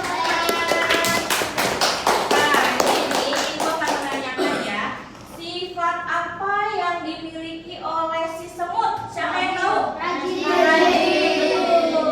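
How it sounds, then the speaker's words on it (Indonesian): Clapping for a child in a classroom-style lesson, a quick burst of sharp claps for about four seconds, followed by talking. "Beri tepuk tangan untuk Akifa."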